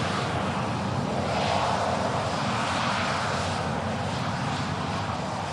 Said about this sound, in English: 12 years old, Boeing 737.